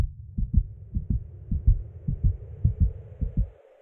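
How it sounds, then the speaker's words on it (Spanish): Racing heartbeat effect, a rapid run of paired low thumps, about a dozen beats close up, fading out under a soft rising hum. "De inmediato se aceleraron mis latidos."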